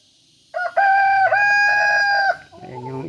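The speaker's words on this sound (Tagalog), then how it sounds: "Ayan yung isang tandang panay tilaok." A rooster gives one loud, close, drawn-out crow lasting about two seconds, followed by short lower clucking from nearby chickens in a quiet yard.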